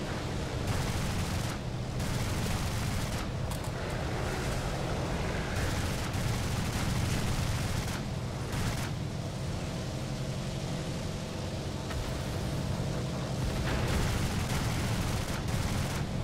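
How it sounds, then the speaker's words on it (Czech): Dense gunfire fills a video game battle, near-continuous loud volleys and bursts sustained throughout with brief dips, no talking over it. "To mám za zády furt. To po mně furt střílí."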